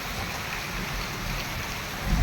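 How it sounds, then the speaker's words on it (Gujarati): Steady, dense wash of falling water, loud and continuous with no pauses, like a heavy downpour close by; no voices. "પાછા મેહુલે મંડાણ માંડ્યા છે જોરદાર"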